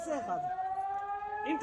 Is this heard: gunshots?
no